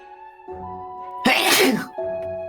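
A single loud, close sneeze bursts out sharply in the middle, set between stretches of a sustained low tonal hum.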